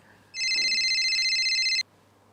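A single electronic telephone ring, a steady bright warbling tone about one and a half seconds long, loud and close against a quiet room, then stopping abruptly.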